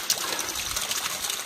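Water trickles and splashes softly from the Siklawica waterfall, left mostly frozen in winter, as a quiet, continuous dribble heard alone.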